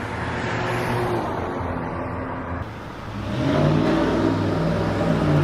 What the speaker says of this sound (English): that guy was revving up his engine behind me